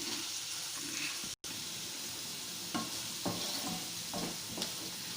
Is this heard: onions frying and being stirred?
yes